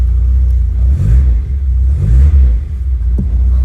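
A 1991 Vauxhall Nova GSi engine runs just after a cold start, a loud, steady low rumble with slight rises in revs throughout and no talking.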